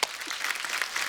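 Studio audience applause on a Hindi comedy talk show, a steady wash of clapping that rises slightly after a brief start and holds at moderate level, with no talk over it.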